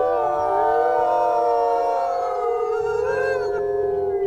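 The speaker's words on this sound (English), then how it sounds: "Get a few more howls going here" Several wolves howl together in a video game, their long, overlapping wavering cries sustained loud and close throughout, with no talking.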